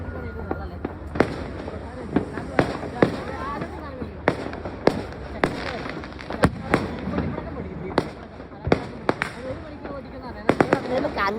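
New Year fireworks in Munnar heard from afar, a steady series of sharp cracks and booms at irregular intervals, with voices chatting in between.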